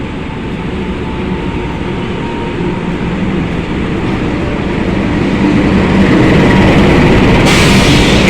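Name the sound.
Gunung Jati passenger train running on the railway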